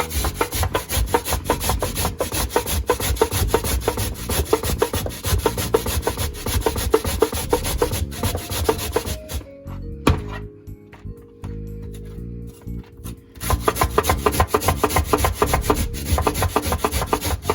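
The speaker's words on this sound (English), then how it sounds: "I'm gonna go ahead and I'm gonna grate my beetroot" Beetroot rubbed against the smaller side of a handheld grater, a steady close rasping scrape in quick strokes that pauses briefly midway before resuming at the same brisk pace.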